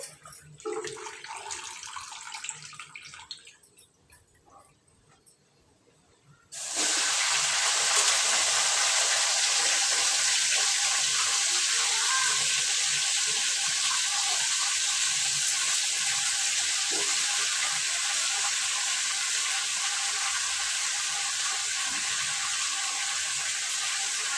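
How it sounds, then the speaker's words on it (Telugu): Gongura leaves being rinsed under a running kitchen tap: after a quieter stretch of faint handling, a steady, loud rush of water starts and keeps pouring without a break. "ఇప్పుడైతే పుండుకూర కడిగి కడిగి పెడుతున్నాను ఒకసారి అయితే ఇంకొకసారి కడిగేసి"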